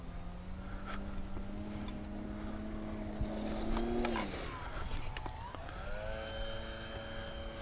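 An AP40 Apprentice S 15e electric RC airplane motor spinning up at takeoff throttle outdoors, a steady whine that climbs, dips and settles back at a new pitch, moderately loud and continuous.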